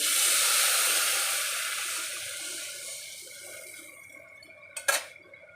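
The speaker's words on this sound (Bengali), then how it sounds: "এবারে দিয়ে দিচ্ছি জল" Water poured into a hot pan for a simple fish curry hisses loudly and broadband at first, slowly fading, then a brief clatter of the pan near the end.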